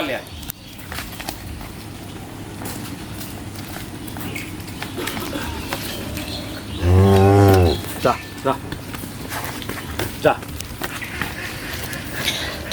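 A Holstein Friesian dairy cow on a farm lets out one loud, drawn-out moo partway through, amid ambient farm noise, scattered knocks and faint voices.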